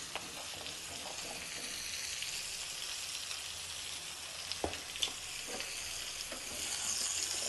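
Raw banana slices coated in sambar powder, coriander powder and salt fry in a pan with a steady, close sizzle and occasional stirring scrapes and clicks, no voices.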